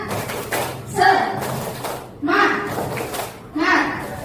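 Students in a classroom perform a rhythmic 'tepuk semangat' clapping routine, a few bursts of patterned claps between chanted words.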